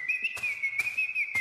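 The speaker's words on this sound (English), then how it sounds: "I hear whistling." A steady high whistled tone drifts slightly in pitch in the video game Silent Fear, punctuated by three short bursts of noise at regular intervals, with no speech.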